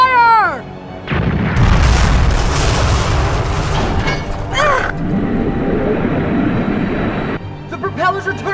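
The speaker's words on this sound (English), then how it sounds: "let's use the recoil from the third barrage to push us back from the rocks. Once more, fire!" Anime cannon barrage sound effect, a big booming roar that swells and rumbles for several seconds, with a whistling sweep in the middle and a rising tone before the blast.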